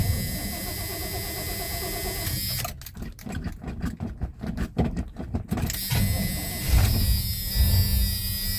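A 1984 Chevy C10 pickup engine cranks with a rapid, pulsing starter whir for about three seconds, then catches and settles into a steady, close idle, with no talking.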